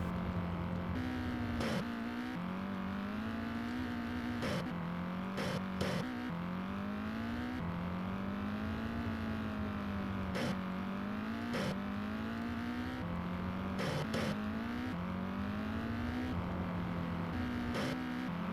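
Race cars roar around the track in NASCAR 99 on the Nintendo 64, a droning engine tone rising in pitch and dropping at repeated gear shifts, with brief sharp bursts scattered through the run.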